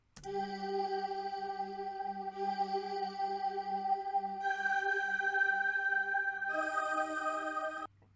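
Bright synth plucks, made in Serum for witch house, ring out in a melodic pattern, washed in reverb with a swirling, shimmering chorus and flanger modulation, then stop, leaving a faint tail.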